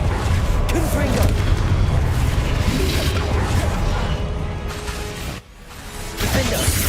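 Confringo blasting-spell explosions in the game Hogwarts Legacy, loud booming combat noise that fills the whole stretch, briefly dipping near the end before surging back, with a voice heard over it.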